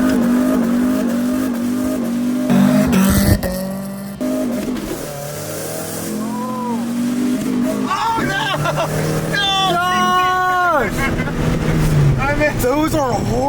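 A car engine revs and strains as the driver misses the shift into third gear, with grinding, uneven surges and falling pitch, loud and close, while people talk over it.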